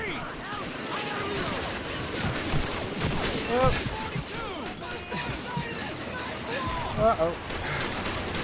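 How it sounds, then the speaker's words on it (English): Rapid machine gun fire and bursts of shooting crackle throughout a Call of Duty World War II battle at the Rhine crossing, dense and continuous, with shouting voices over the gunfire. "Machine gun line!"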